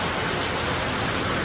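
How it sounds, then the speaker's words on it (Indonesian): Steady heavy rain falls during the rainy season in Bogor, a dense, even hiss with no breaks and no voices. "Hujan lagi."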